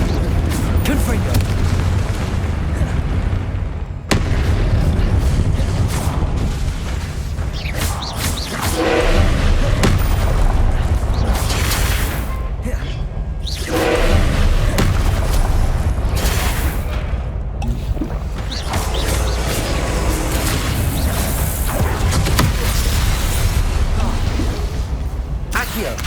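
Confringo blasting-spell explosions from Hogwarts Legacy, a steady barrage of booming, thudding blasts with a continuous rumbling roar underneath, loud and close throughout.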